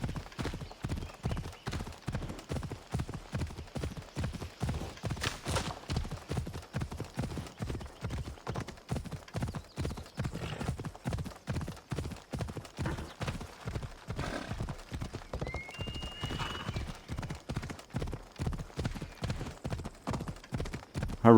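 Rhythmic clip-clop of a horse's hooves at a steady gait in Assassin's Creed Odyssey, continuous and fairly close, with a brief neigh partway through.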